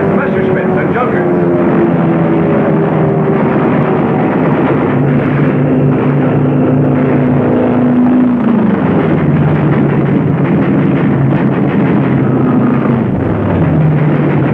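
Twin piston engines of Lockheed P-38 Lightning fighters in flight give a loud, continuous droning roar with shifting pitch, like wartime combat footage.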